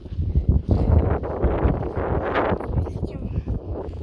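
Wind buffets a mobile phone microphone on a walk outdoors with a dog, a constant loud, rumbling roar with uneven gusting surges throughout.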